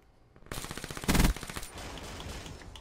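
Rapid automatic gunfire rattles through a 2v2 video game shootout on a bomb map, beginning after a quiet moment and peaking in one loud close burst before fading into a quicker, softer string of shots.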